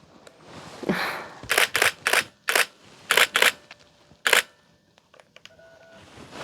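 A camera shutter clicks repeatedly, about eight crisp snaps in quick irregular bursts, close and fairly loud with quiet gaps between.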